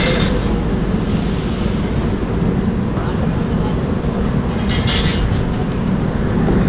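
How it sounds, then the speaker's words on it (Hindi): Inside the Hazrat Nizamuddin–Trivandrum Central Express pulling out of Bharatpur Junction station in the morning, a loud continuous rumble of the moving train with steady low roar throughout. "हमारी ट्रेन जो है रवाना हो रही है भरतपुर जंक्शन से"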